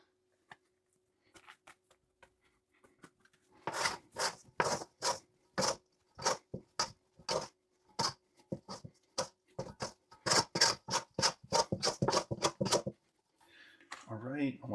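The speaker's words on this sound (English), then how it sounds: "You can even use your bowl scraper to get it off your fingers." A plastic bowl scraper drags sticky sourdough off fingers in a series of quick, rhythmic rasping scrapes, close and fairly loud in a quiet kitchen, with a brief burst of talk at the end.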